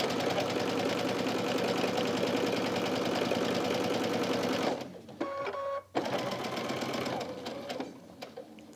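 A sewing machine stitches quilt fabric in a rapid, even rattle close to the mic. It stops briefly partway through, then starts again and winds down, with a few soft handling sounds and no talking.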